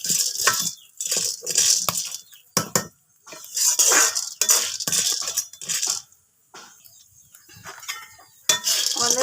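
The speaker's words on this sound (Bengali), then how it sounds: "খইটা ফুটে পপকর্নটা ফুটে আমার চোখে মুখে লাগবে" Corn kernels pop in a pan over medium heat, making scattered sharp pops and light rattling clinks against the metal, with a person talking over them.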